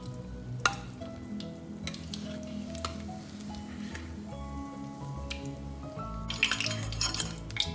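Dahi ke sholay fry in hot oil with a soft, steady sizzle, broken by occasional clinks of a utensil against the pan and a busier bubbling burst near the end.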